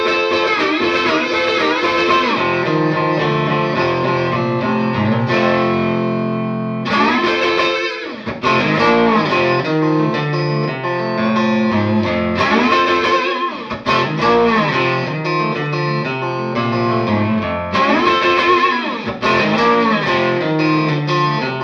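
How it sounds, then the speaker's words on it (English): A 2008 American Standard Strat electric guitar played through a Mojave amp, its distorted tone ringing out in blues riffs and chords with short pauses between phrases, close and loud with no talk. "This is a 2008 American Standard Strat."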